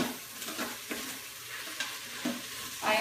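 A spoon stirs Thai beef stew in a slow cooker, making repeated soft scraping and sloshing strokes with a faint sizzle-like hiss underneath, close and fairly quiet, with no voices.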